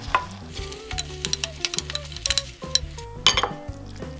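Ramen noodles with melted cheese and beetroot being stirred in a pot, with repeated metallic clinks and scrapes of utensil against cookware over a soft sizzle, close and busy.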